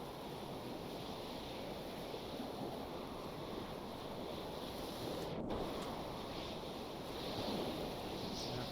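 Steady wind and washing waves surround a boat riding at anchor in a sailing video game, a constant broad rushing hiss at low level with no voices.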